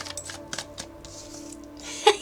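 Tarot cards being shuffled: soft, papery riffles in a few short bursts, ending in a louder, sharper clatter as the deck is squared.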